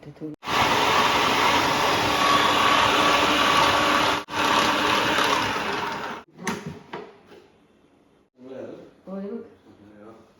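A USHA food processor kneads dough with a loud, steady motor whir that runs for about six seconds with one brief dip. It then stops abruptly, and people talk in the quiet that follows.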